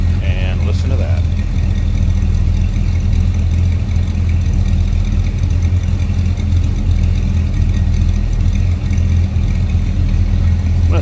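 A 1970 GMC C1500 Custom pickup idles low and steady, a continuous deep, throaty rumble heard up close for around eleven seconds with little variation.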